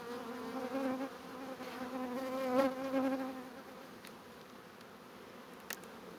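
Honeybees buzzing close by in an open 10-frame hive while frames are checked and the nest is arranged for wintering; a steady, dense hum that swells around the middle and then eases off.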